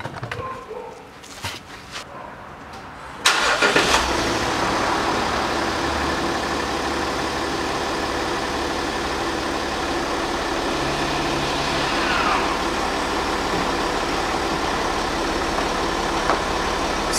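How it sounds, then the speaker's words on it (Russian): A 2014 Range Rover Sport 3.0 engine cranks and catches after a few seconds of quiet, then settles into a steady, even idle that continues to the end. "Сейчас запускаю двигатель."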